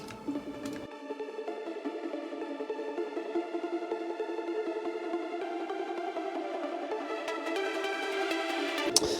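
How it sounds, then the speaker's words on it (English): A bright, buzzy supersaw synth lead plays a sustained trance melody alone, swelling gradually louder with thick layered harmonics. "So below them I have a super saw trance lead."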